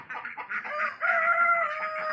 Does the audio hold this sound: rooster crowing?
yes